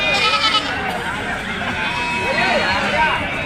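Goats bleat at the Kunta goat and sheep market in Andhra Pradesh, wavering calls rising over a steady crowd babble and chatter, close by and continuous.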